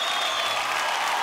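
An audience claps loudly and continuously in a brief burst of applause, welcoming a performer onto a stage.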